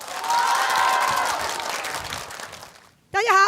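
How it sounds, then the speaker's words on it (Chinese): A studio audience at a televised stand-up comedy show claps in a broad, steady wash that fades out, then a voice starts speaking right after the applause stops. "来给点掌声"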